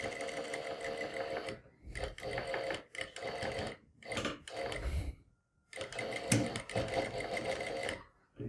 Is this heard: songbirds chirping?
no